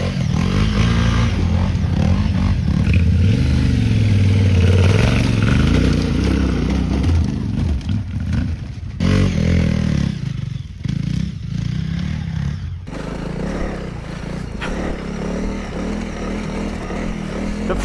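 A Honda CRF300 enduro motorcycle on rally-raid suspension rides hard off-road, its engine loud and close with steady revving, while chassis clatter and scraping run through the whole stretch and no one speaks.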